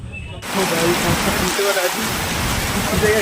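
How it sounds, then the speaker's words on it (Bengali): Heavy rain falling at Princep Ghat in Kolkata, a dense, loud, steady downpour that starts abruptly and continues without a break. "এখানে বৃষ্টি হচ্ছে ইস পুরো ভিজে গেছি"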